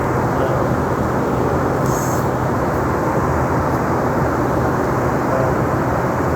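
Steady broadband roar of a United Embraer E145XR regional jet cabin in flight out of Roanoke, constant and loud throughout with no pauses and no talking.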